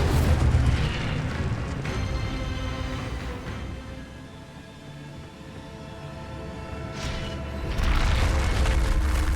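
Fiery spell blasts in a Harry Potter video game, with deep booming rumbles that swell at the start and again near the end around a quieter crackling stretch, no talk over it.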